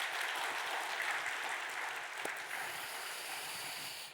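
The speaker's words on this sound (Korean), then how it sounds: "우리 환영의 박수 한번 하도록" A church congregation claps in welcome during a Sunday worship service, a broad, even round of applause that holds steady and then tapers off toward the end.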